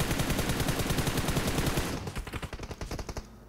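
Heavy automatic gunfire in PUBG Mobile's Spiderman mode, a dense continuous burst of rapid shots that thins into distinct separated rounds before cutting off.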